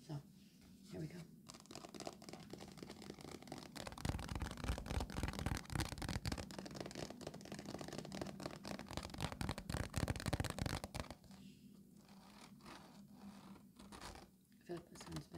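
Pencil drawing a UFO on paper in a sketchbook, a steady close scratchy stroking with bursts of denser shading in the middle, soft and intimate, with a few quieter pauses near the end.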